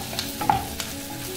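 Onion and chana dal frying with turmeric in a pan for a masala dosa filling, a brief close sizzle with a couple of spoon-stirring clicks and scrapes, no voices.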